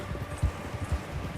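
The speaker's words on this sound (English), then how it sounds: "I'm kicking on with this horse. I'm giving it beans" A horse gallops in the video game Red Dead Redemption 2, its hooves pounding a steady, moderately faint rhythm of paired beats over a continuous background wash, with no talking.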